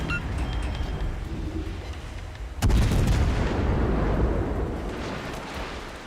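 Warship guns fire in the video game World of Warships: Legends, with a low rumbling battle din and then a sudden loud blast that rolls on into a long booming decay.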